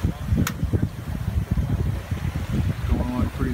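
A sailboat flying all three sails, main, cutter and jib, in about 9 knots of wind, making roughly 6.7 knots: steady broadband wind rush and water wash, with a faint voice near the end.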